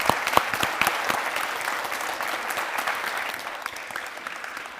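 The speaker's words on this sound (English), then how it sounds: "So just a little round of applause for Co O'Neill." Steady audience applause at a student film festival panel, welcoming the moderator; a dense, even wash of clapping from a crowd, moderately loud throughout with no talk over it.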